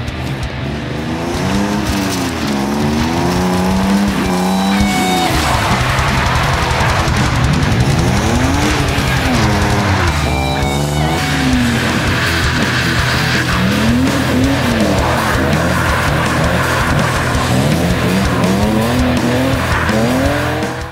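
A car fitted with a hydraulic handbrake slides through repeated skids, tires squealing in rising and falling sweeps over a loud, constant engine roar, close and continuous.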